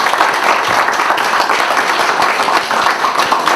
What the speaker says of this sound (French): Là, une bonne main d'applaudissement, M.